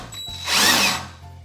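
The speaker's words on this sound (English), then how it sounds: "Now the drill is in forward because that actually is backwards for the way that the reel normally spins" A power drill spins the reel of a John Deere 260B greens reel mower in a brief test run, whirring up to speed and then winding back down, loud and close with no talking.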